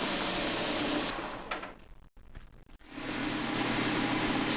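A homemade wooden 2x72 belt grinder whirs loudly as it sands a piece of oak, a dense, steady abrasive roar that cuts out and winds down for a couple of seconds before spinning back up to full grinding.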